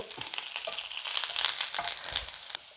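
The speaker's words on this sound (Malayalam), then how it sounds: "സവോള അങ്ങനെ മൂത്ത് വരുന്നുണ്ട് കേട്ടോ ആ സമയത്ത് ഇച്ചിരി കറിവേപ്പിലയും കൂടി ഇട്ട് കൊടുക്കാവേ" Sliced onion and curry leaves fry in hot oil in a steady, crackling sizzle, close and fairly loud, with scattered pops and light stirring scrapes throughout and no talking.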